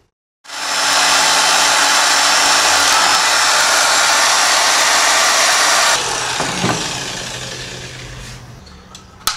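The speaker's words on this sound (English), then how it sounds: "we've got to drill a hole in this plastic here that's slightly smaller than the LED" A power drill bores into plastic: a loud, steady high whine starts abruptly, runs for several seconds, then drops in pitch and tapers as the bit slows, ending with a small click.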